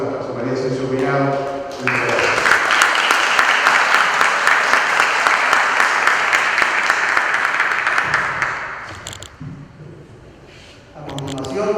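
An audience at a book presentation on criminal procedural law breaks into loud, sustained applause lasting several seconds, with talk before and after it.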